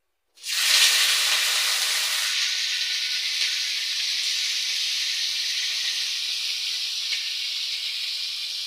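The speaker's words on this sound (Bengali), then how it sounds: "আমি বিমসুটিগুলোকে ভেজে নিচ্ছি।" Broad bean seeds dropped into hot oil in a wok set off a sudden loud sizzle that settles into a steady, close hiss and carries on without a break.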